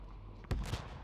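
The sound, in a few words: explosions in the video game The Division 2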